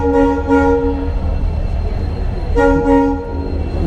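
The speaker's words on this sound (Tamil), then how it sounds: "ட்ரெயின் தான் ஹார்ன் அடிச்சு மெதுவாக வருது." An express train's horn blares loudly in two short blasts as it approaches slowly, then sounds again in two more after a pause, over a low rumbling engine.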